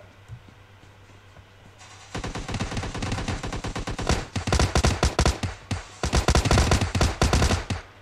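Gunfire in the video game PUBG: after a quiet start, loud rapid automatic bursts follow one another closely and continue to the end, with no talk over them.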